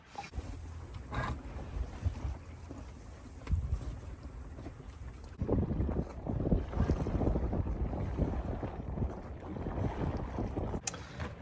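Sailboat sailing upwind in light wind on a crossing from Italy toward Croatia, with steady rushing water and wind noise that swells louder about halfway through and continues without a break.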